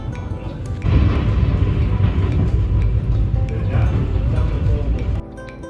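Inside an electric commuter train climbing through the Carpathian mountains, a steady low rumble and rattle of the carriage rolls on for several seconds, then drops off near the end, with people talking over it.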